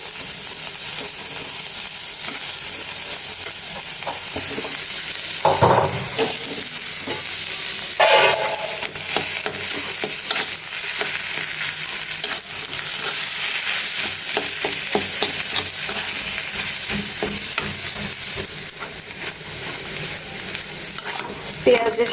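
Chopped onion fries in oil in a pan for a pumpkin-leaf bhorta, a continuous loud sizzle with repeated stirring and scraping strokes and a couple of sharper clanks, heard close and alone.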